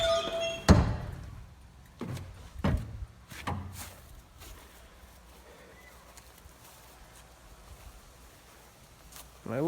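A 1971 International Harvester Blue Bird school bus's in-out passenger door gives a loud thunk near the start, then a few softer knocks and clunks fade into quiet cabin hiss, with another knock at the very end.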